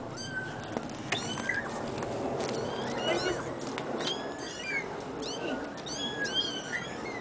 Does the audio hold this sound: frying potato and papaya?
no